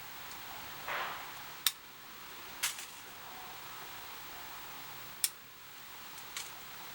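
Pruning shears snip a pine branch in summer, three or four sharp isolated clicks spaced a second or more apart against a quiet outdoor background.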